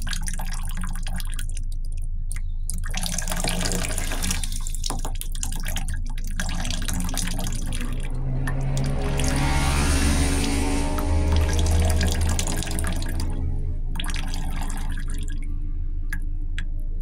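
Water dribbles weakly from a household tap on a Prime Water supply, a thin steady trickle with drips that swells slightly midway and then thins again, close and alone with no talk.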